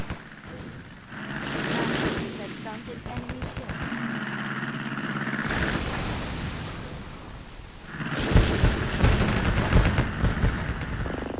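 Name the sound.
naval gunfire in a video game battle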